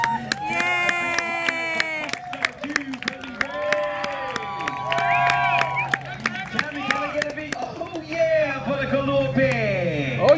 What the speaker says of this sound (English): another round of applause for two hardworking young gentlemen